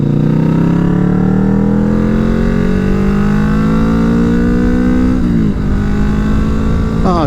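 A loud Kawasaki Vulcan S motorcycle engine revving hard toward 8,000 rpm, its pitch climbing steadily as it accelerates, then a brief dip at a gear change before rising again.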